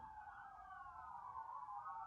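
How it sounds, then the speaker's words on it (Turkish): A fire engine siren wails in the distance, a faint, steady rising-and-falling tone heard alone over low background hum. "Sanırım bir yerde itfaiye geçiyor."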